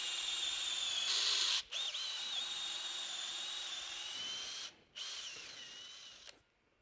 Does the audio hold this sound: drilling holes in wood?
yes